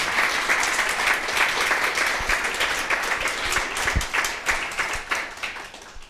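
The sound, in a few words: applause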